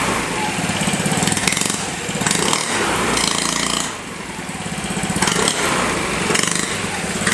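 A Vespa scooter engine fitted with an Akrapovic exhaust runs in a rapid, buzzy putter, revving up and down in waves with a brief dip near the middle, loud and close.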